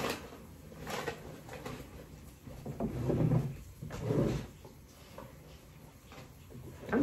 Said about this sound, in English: I'm digging in these drawers